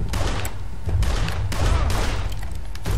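Gunfire in the video game Blues and Bullets, loud dense bursts of rapid shots and blasts that run without a break through the moment.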